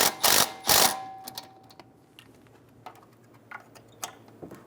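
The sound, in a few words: tightening a brake line bracket bolt on a Toyota Camry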